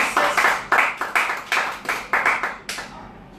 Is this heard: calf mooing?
no